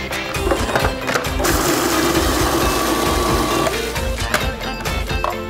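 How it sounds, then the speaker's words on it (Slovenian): A kitchen blender whirs steadily for a couple of seconds, grinding oat flakes and flax seeds for vegan burgers, with small knocks and clatter before and after the motor run. "In to zdaj kar prvo zmiksamo."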